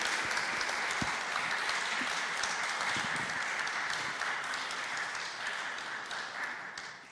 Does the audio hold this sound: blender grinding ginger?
no